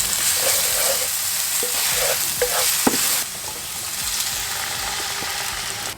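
Chopped garlic frying in olive oil in a pan for an aubergine dish, a steady close sizzle broken by a few stirring clicks, settling into a softer, even hiss about halfway through.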